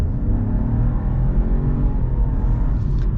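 A base model 2022 Chevy Trailblazer in sport mode accelerates hard, its engine rising in a loud, continuous rumbling roar heard from inside the car.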